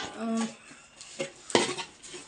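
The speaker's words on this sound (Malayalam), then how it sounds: "നമുക്കിത് എടുത്ത് അടുപ്പിലോട്ട് വയ്ക്കാം" A metal pot clanks and scrapes as it's set down on a stove, followed by a few light clinks of utensils, close and fairly quiet.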